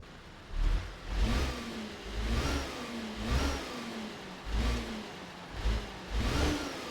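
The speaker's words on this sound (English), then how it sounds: "That's actually quite a nice sounding engine." A truck engine with a turbo in a trucking video game revs again and again in steady surges, each swell rising and falling at a moderate, even level with no talking.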